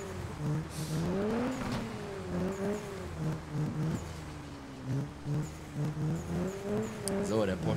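Porsche engine revving at the start line in a racing video game, repeated rising and falling revs at moderate volume under lively talk.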